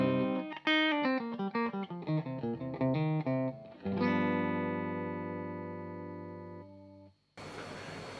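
Electric guitar played clean through a Morgan SWR 50 amp with no pedals, chasing a particular tone: a quick melodic phrase of plucked notes, then a struck chord ringing out and slowly fading before an abrupt cut.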